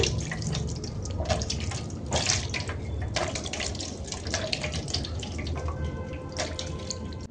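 Hands rinsed clean of homemade neem soap lather under running water, a steady faucet splash with dripping and small clattering splashes throughout, close and continuous, no voices.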